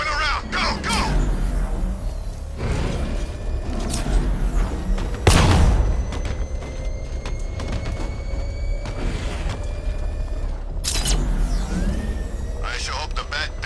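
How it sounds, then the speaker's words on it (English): Explosion in the Batman: Arkham Knight video game: one loud, broad boom bursts at about five seconds within a continuous game soundscape of rumble and effects, and further heavy impacts arrive later. "I sure hope the bat died in that explosion."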